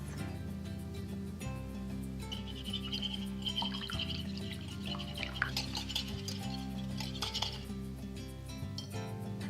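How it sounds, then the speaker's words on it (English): A whisk beats egg whites into melted butter in a bowl, clinking and tapping against the sides in a quick, irregular rhythm, close by, with faint background hum. "I'm going to whisk in egg whites."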